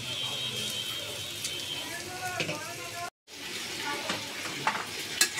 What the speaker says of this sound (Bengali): পেঁয়াজটা নরম করে ভেজে নিচ্ছি